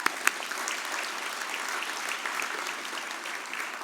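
A reception crowd applauds the Hill Prize in Technology recipient, Dr. Herman Libet of Alma Energy, with a steady, dense wash of clapping that opens with a couple of sharp, distinct claps and then holds at an even level throughout.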